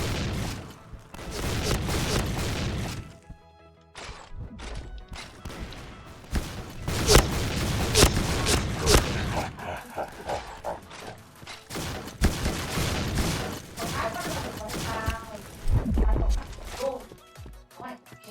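Shotgun fire in the shooter game Point Blank, heavy bursts of blasts and thuds in clusters with pauses, mixed with game effects and someone talking excitedly over the action.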